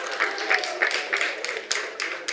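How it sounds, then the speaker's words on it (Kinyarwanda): An audience at an awards ceremony in Kirehe District claps together in steady, dense applause, with sharper individual claps standing out over the sustained crowd noise. "muyimera amashyi menshi"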